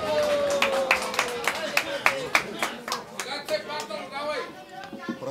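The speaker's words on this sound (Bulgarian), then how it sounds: "Вашите аплодисменти!" At a wedding reception, guests applaud with a run of sharp, rhythmic claps under a voice speaking over a microphone, and the clapping thins out toward the end.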